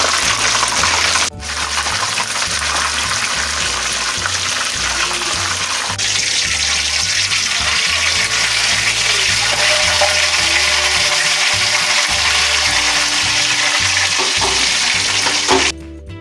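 Large chicken pieces frying in hot oil for homemade grill chicken, a loud, steady, close sizzle with bubbling crackle running throughout and no talking.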